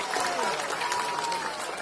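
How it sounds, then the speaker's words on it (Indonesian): A crowd at a presidential campaign gathering claps in a brief, dense wash of applause, with voices and crowd noise mixed underneath. "tepuk tangan buat semuanya"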